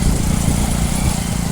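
A motorcycle engine drones steadily while riding along a mountain road, a close, continuous low rumble mixed with wind buffeting and no voices over it.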